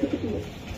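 A racing pigeon coos close by in a few soft, low, throaty pulses, the bird alone with no talking.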